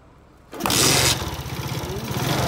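A Motorstar Zest motorcycle with a swapped stator fires up after a brief quiet moment, a sharp catch followed by a close, buzzing idle that settles into a steady putter.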